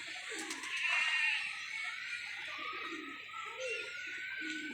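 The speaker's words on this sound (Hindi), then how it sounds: "ये देखिए, ये कबूतर एक आ रहा है।" A pigeon flies in and coos softly in low, throaty murmurs, with a faint flutter of wings and light outdoor ambience behind it.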